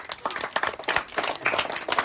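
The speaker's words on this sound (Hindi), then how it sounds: "ताली अहमद के लिए।" Children clap for Ahmad at a clackers ball game competition, a loud, lively burst of many hands applauding steadily with slight irregular rhythm, nearby and sustained throughout.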